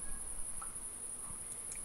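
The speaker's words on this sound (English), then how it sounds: "That's a cicada, I believe." A cicada chirps in the background outdoors, a thin, steady high-pitched drone running without pause, faint and distant, with a few soft scattered insect-like ticks.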